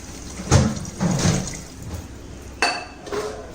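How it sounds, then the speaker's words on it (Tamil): Water splashes and pours into a pot of masala-coated biryani in a few short bursts, with a faint clink of metal between them. "இப்போ தண்ணி ஊற்றுறோம்"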